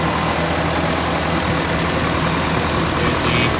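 The 22RE four-cylinder engine of a 1992 Toyota pickup (Hilux) idles steadily, a loud continuous mechanical drone with even rhythm and no talking over it.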